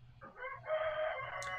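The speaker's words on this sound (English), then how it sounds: "The rooster agrees." A rooster crows once, a clear, fairly close cock-a-doodle-doo lasting about a second over a quiet background.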